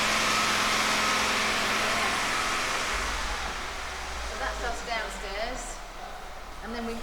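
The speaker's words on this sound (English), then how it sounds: "someone's doing a lot of lovely revving up at the moment." In a TVR racing workshop, a car engine drones loudly and steadily as it is revved, a broad roar that eases off partway through before slowly settling lower.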